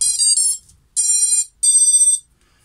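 FPV quadcopter brushless motor fitted with new 684ZZ bearings, spun up on the bench in three short bursts, each a high-pitched, close, whining tone lasting about half a second and separated by brief silences.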